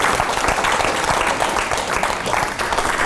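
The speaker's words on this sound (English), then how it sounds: "another round of applause" A conference audience gives another round of applause for speaker Tania, a steady dense wash of clapping with no talking over it.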